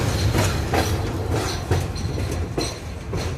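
Maintenance cars rolling past on railway track, a steady loud rumble with repeated clickety-clack wheel beats over the rail joints, close by and with no voices.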